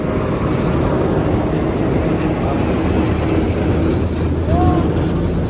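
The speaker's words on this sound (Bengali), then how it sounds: "এটা হচ্ছে লোকাল ট্রেন" An old local train passing close by, a loud, steady rumble of wheels and cars on the track, with a faint brief squeal near the end.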